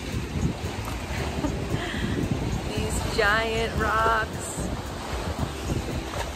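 Strong wind blows by a lake among giant rocks, a constant rumbling buffet across the microphone with a person speaking briefly over it.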